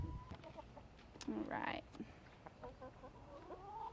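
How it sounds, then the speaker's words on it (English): Backyard hens cluck and give a few louder squawks, close by in a quiet outdoor setting, while a person says a brief word. "Our chickens, they love people."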